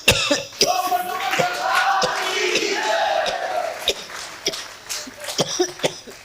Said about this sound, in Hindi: फिर बोले तत्काल खांसी प्रारंभ